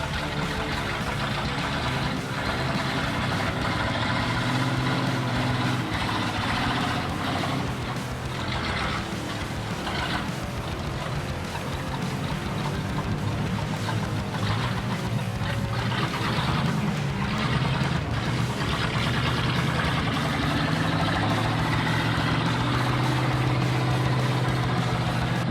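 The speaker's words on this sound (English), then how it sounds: "the engine roars fiercely, sending thick plumes of black smoke into the sky" A heavily loaded logging truck's diesel engine roars steadily and loudly under strain, a continuous low rumble with no pauses throughout.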